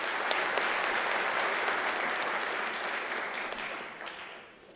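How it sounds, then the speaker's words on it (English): Audience applauding at a University of South Africa autumn graduation ceremony, a steady dense clatter of many hands sustained throughout and easing off slightly near the end, with no talk over it. "I think that deserves a round of applause"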